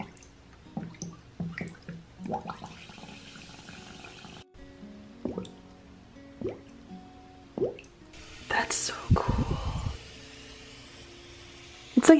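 A large bath bomb fizzes and bubbles inside a water-filled cauldron, giving sporadic drips, squishy splashes and liquid pops with quiet gaps between them, and a burst of sloshing near the end.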